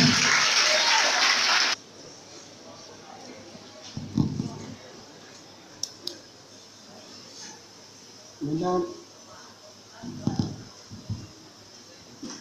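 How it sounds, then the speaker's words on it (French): A crowd at a bachelors' reception and welcome ceremony bursts into loud, dense applause for about two seconds, then it cuts off. Scattered voices and brief noises follow in a quieter hall. "Donc applaudissez jusqu'à ce qu'il arrive."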